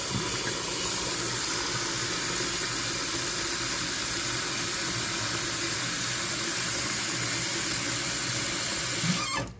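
Water runs steadily from a tap into a pot being refilled for a frozen pork roast, a continuous close rushing hiss that stops abruptly at the very end.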